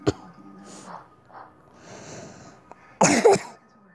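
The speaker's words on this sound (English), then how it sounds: "I just have a bad cough." A sharp burst near the end, like a harsh cough, follows quiet shuffling and breathy rustles; close and fairly loud.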